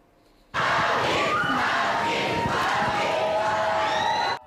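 Fans at a national song contest selection erupt in loud cheering, shouting and an ovation for a rock band leaving the stage, a sudden dense crowd roar that holds steady and then cuts off.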